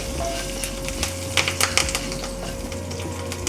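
Curry leaves and sesame seeds with asafoetida crackling in hot oil for a dhokla tempering, a close, steady sizzle with sharp popping spatters clustered in the middle, no talk.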